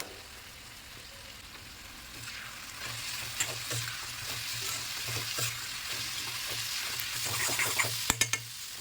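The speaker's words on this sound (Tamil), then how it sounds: "இப்போது 3 ஸ்பூன் மிளகாத்தூள், 1 ஸ்பூன் மல்லித்தூள் போட்டு நல்லா மிக்ஸ் பண்ணிக்கோங்க." Spices sizzle steadily in a hot frying pan while a spoon stirs and scrapes chilli and coriander powder for a vatha kulambu, with a few sharp clinks near the end.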